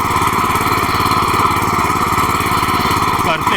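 A power tiller engine runs in gear while weeding between crop rows, a loud, steady, close chugging drone with a fast even beat throughout and a slight change near the end.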